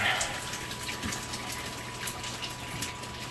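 Tap water runs in a steady low-pressure gush, a continuous close hiss with no clear breaks, from a faucet being tested after a water heater element replacement.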